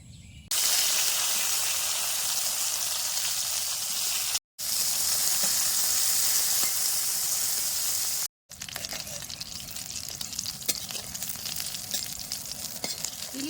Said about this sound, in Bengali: মাছের তেলে বেগুন ভাজা